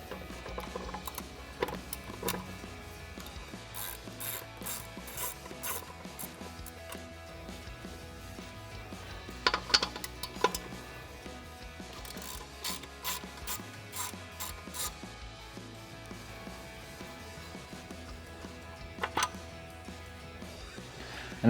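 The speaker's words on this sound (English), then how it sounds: "then we'll take a 17mm socket to remove our 2 bolts" Ratchet clicks from a 17mm socket turning out two front brake caliper bolts on a truck, in repeated short bursts of close metallic ticking with occasional sharper clanks against a steady workshop background.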